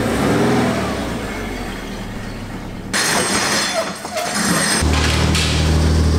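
A worn Toyota 86 sports car starts and pulls away, the engine rumbling then revving up in uneven bursts, loud and close.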